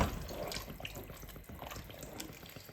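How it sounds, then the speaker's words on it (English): Minestrone soup with macaroni being stirred in a pot, giving a soft, steady wet sloshing and swirling of liquid, close and fairly quiet, with no talk. "and give it a stir"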